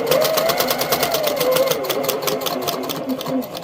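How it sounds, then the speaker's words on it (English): Sewing machine back-stitching to lock a seam on a coaster, a fast, steady mechanical rattle of rapid needle strokes with a rising motor whine, close and loud, while someone talks over it. "we are going to start and stop backing up a little bit just to lock that stitch in place"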